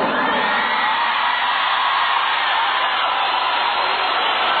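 A crowd at a DJ event at a cultural house cheers loudly, with sustained whooping and shouting blended into one dense, continuous roar that stays level throughout.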